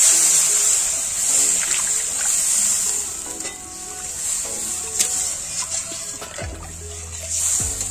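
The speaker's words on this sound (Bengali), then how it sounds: "এবার আমি জল দিয়ে দেব।" Water is poured into a simmering rui fish and tomato curry masala in a pan, a running splash over a constant high sizzle with small stirring knocks near the end.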